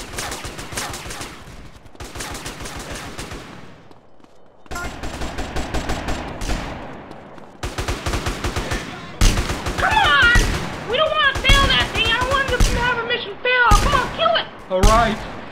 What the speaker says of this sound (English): Okay, so we gotta use that submachine gun.